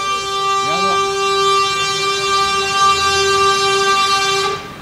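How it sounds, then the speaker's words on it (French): Car and truck horns honk in support at a toll-booth protest, with a long, loud sustained horn blast running nearly the whole time before cutting off, and a voice speaking briefly beneath it. "Ces klaxons, ça fait plaisir."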